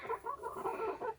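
Hens cluck softly in a coop during winter chores at -20C, a run of low, close, burbling murmurs with no voices.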